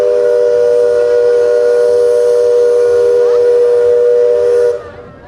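A train whistle at Walt Disney World's Magic Kingdom blows a long, steady, multi-toned blast, loud and sustained for several seconds before cutting off abruptly.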